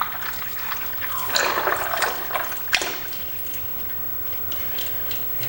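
Engine oil drains out of a late 1947 John Deere B tractor in a close, steady splashing trickle that swells briefly, then settles into a softer, continuous flow with no talking.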